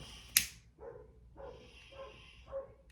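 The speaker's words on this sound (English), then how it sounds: "Oh, the neighbor's dog's out." A German Shepherd barks outside at a distance, a few short, fairly faint barks and yips spread over a couple of seconds with no talking.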